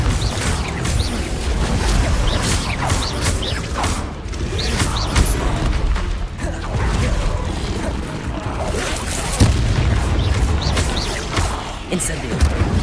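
Confringo fire spells bursting in Hogwarts Legacy, a dense run of loud blasts and crackling impacts layered over busy combat noise, continuous and close with repeated sharp hits.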